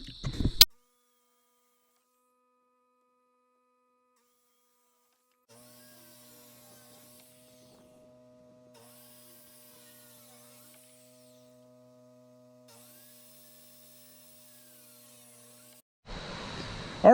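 A power tool cutting roofing material for a pole barn, heard as three steady whirring runs separated by brief pauses, moderately close but fairly quiet, with no talking.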